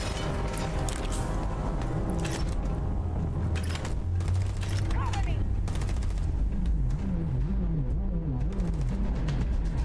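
Automatic gun fire in the Starfield game comes as scattered bursts of sharp shots over a droning, warbling background, with a person talking over parts of it.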